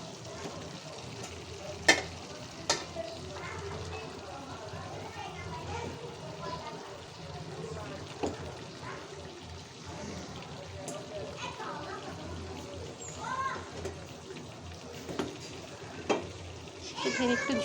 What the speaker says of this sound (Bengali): ভেজে রেখেছিলাম চিকেনগুলো, ওগুলো দিয়ে দিচ্ছি।